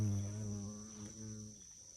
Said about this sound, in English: Did you hear that buzzing? That was a bee trying to go at my face.